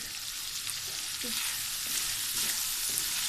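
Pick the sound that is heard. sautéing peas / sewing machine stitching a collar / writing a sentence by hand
sautéing peas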